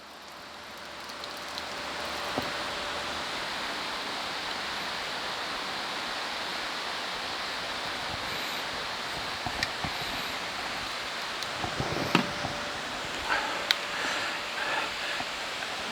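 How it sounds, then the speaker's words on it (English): Liquid is poured off from sausage queso dip made in a Masterbuilt digital charcoal smoker, a steady rushing splash lasting the whole stretch with a few sharper drips and spatters toward the end. "I'm literally just going to pour off some of that liquid."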